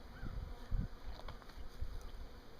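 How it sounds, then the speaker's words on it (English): Bees buzzing around a hive as a queen is being installed into it outdoors, a faint steady insect drone with scattered low bumps of wind or handling noise. "Bees are flying around all right"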